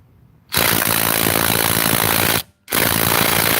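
A DeWalt impact driver hammers on a car lug nut in two loud, close bursts of dense rattling impacts, the first about two seconds long, then a brief pause before the second, with no talk.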